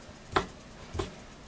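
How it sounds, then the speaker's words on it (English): Two sharp knife chops on a cutting board in a home kitchen, spaced about half a second apart, near and fairly crisp, with no talking over them. "And we're just chopping."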